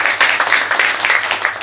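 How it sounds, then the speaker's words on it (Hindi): An audience at a panel discussion session claps briefly in a dense burst of applause, loud and near. "तो इनके लिए जोरदार ताली बजाएंगे"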